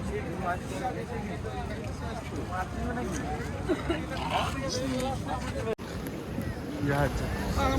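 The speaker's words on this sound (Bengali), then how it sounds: "নৌকা যাচ্ছে নৌকা" A boat engine drones past amid constant crowd chatter and wind at the Digha estuary fish market.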